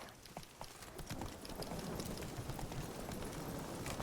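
Roach the horse galloping in Witcher 3, a fast rhythmic clatter of hoofbeats building after the first second and continuing steadily, fairly faint, with no talk.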